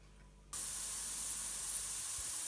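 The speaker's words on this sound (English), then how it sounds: "Can you hear the onions? I started them on medium heat." A sudden, steady broadband hiss starts after a brief quiet moment as onions sizzle in a pan on medium heat for Jägersoße, close and continuous with no speech.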